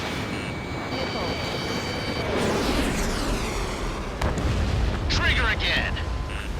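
Missile explosions in the jet combat game Ace Combat 7: Skies Unknown, a deep rumbling blast swelling midway and another burst near the end over steady engine roar, with voice radio chatter alongside.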